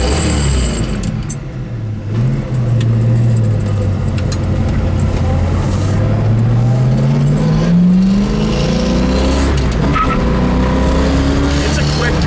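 A 1966 Ford Mustang coupe with a 289 V8 drives down the road. Its engine note climbs through the gears with steady road and wind roar. The engine is loud and close.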